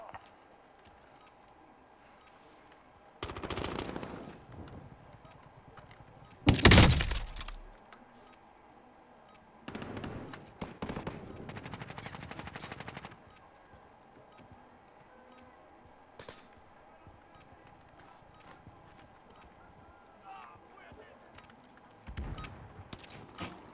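Gunfire in Call of Duty: Modern Warfare comes in sharp bursts and clusters: one loud close volley, then rattling runs of shots between quiet stretches, with some metallic clatter.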